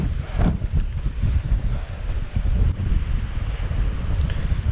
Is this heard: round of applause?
no